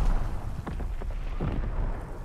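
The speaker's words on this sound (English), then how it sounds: "Sending mortar rounds, zone and sweep." Mortar rounds explode in Call of Duty WWII as a rolling series of muffled booms and thumps, several blasts a fraction of a second apart under a steady low rumble of battle.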